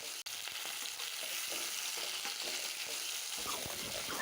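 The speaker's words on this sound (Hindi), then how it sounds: "अब हम कढ़ी को भून रहे हैं, बेसन को भून रहे हैं स्लो फ्लेम पे" Besan (gram flour) roasts in oil over a slow flame, giving a steady soft sizzle with light scraping and stirring, close and continuous with no talk.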